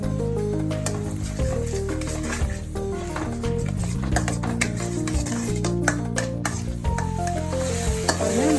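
Tomato paste for chicken thokku sizzles and fries steadily in a pan while a spoon stirs and scrapes through it, a continuous close, fairly loud kitchen sound with no talking.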